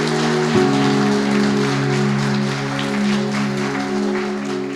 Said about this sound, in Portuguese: Aplauda, irmão, aplauda.